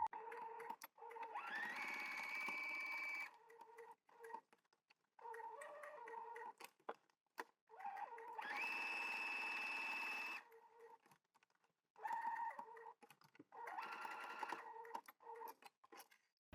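A sewing machine stitches a line around a zippered pocket in several bursts of rapid whirring, each lasting one to three seconds and separated by quiet pauses, close and moderately soft.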